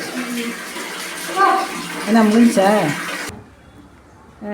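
A tap runs into a bath while children are washed, giving a steady rush of water under a child's and an adult's voices that cuts off abruptly near the end, leaving quiet room sound.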